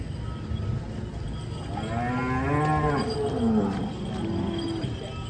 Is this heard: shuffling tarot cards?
no